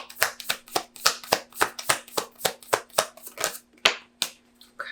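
Tarot cards being shuffled by hand, about a dozen crisp riffling bursts in a steady rhythm, close and clear with no talking.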